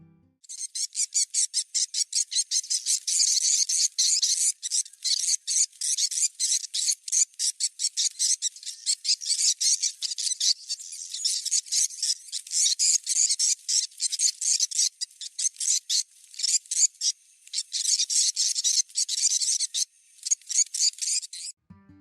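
Dense, rapid high-pitched chirping from stressed swiftlets, a continuous stream of sharp, twittering calls that stays loud and busy throughout with only brief gaps.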